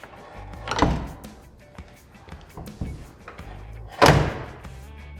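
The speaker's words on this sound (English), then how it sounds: "Now for the first close, you want to close it very slowly to make sure everything lines up okay." A truck door with newly installed Trique door latches closes slowly, giving two solid, close thuds about three seconds apart, with faint rattles and handling noise in between.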